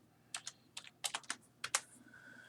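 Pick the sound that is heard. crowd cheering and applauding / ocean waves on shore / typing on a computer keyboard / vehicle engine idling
typing on a computer keyboard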